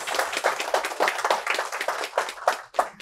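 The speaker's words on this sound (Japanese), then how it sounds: "皆様どうぞ拍手でお迎えください" An audience at a Japanese railway photography seminar claps to welcome a creator onto the stage, a close, lively patter of many hands that thins toward the end.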